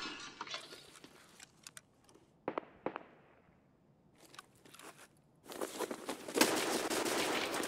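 Gunfire in the video game Escape from Tarkov comes as bursts of sharp cracks and short rattling volleys, with quieter gaps in between and a louder dense stretch toward the end, no voices heard.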